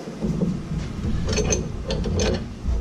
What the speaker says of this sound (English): Take another wrench that's a little bit larger. Slip it in there like that.